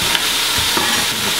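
Chunks of sausage being stirred and broken up in a pot, with a steady loud sizzle and scraping stir strokes throughout, no voices.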